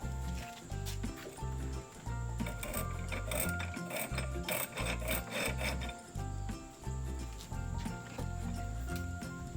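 A file rasps back and forth across the end gap of a piston ring for an LS engine, close and loud, in a steady rhythm of short scraping strokes.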